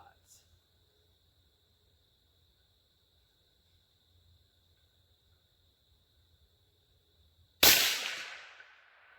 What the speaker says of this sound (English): All right, first shots.